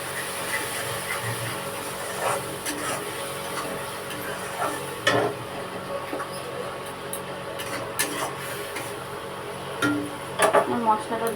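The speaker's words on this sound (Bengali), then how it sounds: "নেড়ে নেবো" Onion, ginger and garlic masala for an egg curry sizzles quietly in a pan while a spoon stirs it, giving intermittent scraping clicks and taps over a soft, steady frying hiss.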